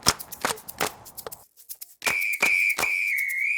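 Several short, shrill blasts of a safety whistle carried aboard a stand-up paddleboard, loud and close, ending in a longer sustained tone.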